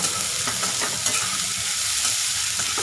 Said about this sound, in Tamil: வெங்காயம் கொஞ்சம் நல்லா வதங்கி வரட்டும்